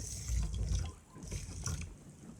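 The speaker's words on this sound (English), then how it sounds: "A bit of water now." Water poured from a container over rice in a cooking pot at an outdoor trail camp, a close, steady splashing pour that thins out and tapers off partway through.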